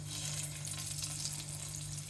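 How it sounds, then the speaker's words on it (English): Pork chop fat frying in a pan, a dense, continuous sizzle and crackle over a low steady hum, close and even throughout. "It's crackling, I can hear it."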